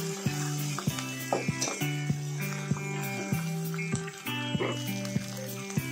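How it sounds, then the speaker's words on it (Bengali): Onion and garlic paste fries in a pan for Bengali chicken kosha: a constant sizzle punctuated by regular metallic clanks of a spatula stirring against the pan, close and fairly loud. "ভালোভাবে রান্না করে নিতে হবে যতক্ষণ না পেঁয়াজ রসুনের কাঁচা গন্ধটা চলে যায়।"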